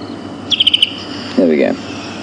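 A wild bird calls during an evening safari drive at Djuma Game Reserve, giving a quick run of five sharp, high chirps followed by a lower, drawn-out warbling call. It sounds fairly close, against a quiet background.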